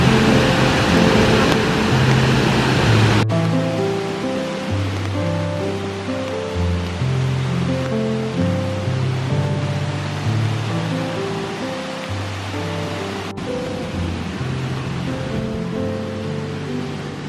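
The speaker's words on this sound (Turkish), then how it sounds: "O kadar çok şelaleden su geliyor ki bayağı, bakın." Water rushes steadily and loudly at Suuçtu waterfall near Bursa, a dense, continuous roar heard alongside steady musical tones.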